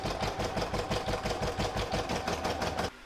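A sewing machine runs steadily for about three seconds, stitching batting down onto a crazy-patch stocking with fast, even mechanical pulses, close and loud, stopping abruptly at the end.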